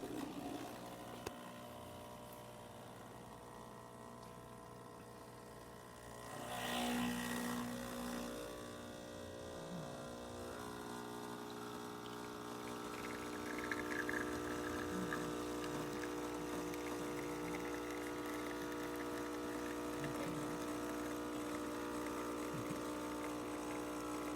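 A serviced Breville espresso machine pulling a test shot after a gasket replacement gives a continuous pump hum with layered tones, rising in a brief surge partway through and then settling into a steady drone, quiet and close.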